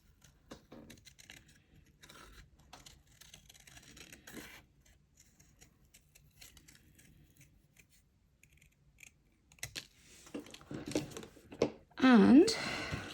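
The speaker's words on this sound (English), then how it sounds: "I'm going to cut around it" Scissors snip around a paper Christmas bell picture in a crafting session, a run of soft close cuts followed by louder, sharper snips toward the end.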